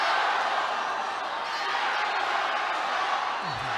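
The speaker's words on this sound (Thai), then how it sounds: "เสียงเชียร์ดังจริง ๆครับสำหรับทางด้านหลิวชุนลิ่ว" Dense, steady crowd roar with scattered whoops and cheers fills an indoor Muay Thai fight venue, loud and continuous throughout with no pauses.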